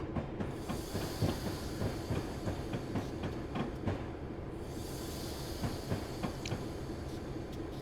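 A GP9 locomotive in Train Simulator 2020 crosses a bridge on the Soldier Summit line between Martin and Helper, with a steady rumble and repeated clattering wheel clicks throughout.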